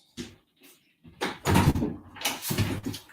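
Household doors are handled and closed with a series of knocks, bumps and a couple of louder thuds close by over about three seconds, with no talking.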